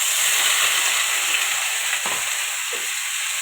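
Ridge gourd flowers and potato frying in hot oil with turmeric and salt give off a steady, close sizzle and hiss, with a couple of brief stirring scrapes partway through.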